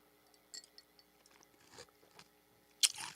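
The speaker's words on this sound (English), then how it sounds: "Crunchy ice." Crunchy ice being chewed close up, a few soft scattered crunches and one sharp louder crack near the end, faint and alone with no talking.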